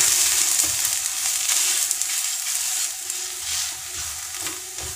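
Thalipeeth, a Maharashtrian bhajani flatbread, roasting on a hot pan, giving a steady close sizzle with faint crackles throughout and no talking.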